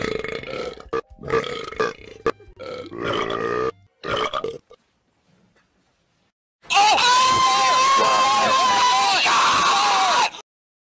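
Loud, long belch lasting several seconds, coming after a stretch of Dutch speech and a short pause, in a comedic edited clip.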